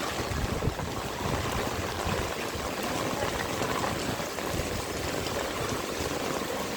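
Steady rushing flood water from a typhoon flows continuously through city streets, a broad wash of churning noise with no clear breaks, fairly close and moderately loud.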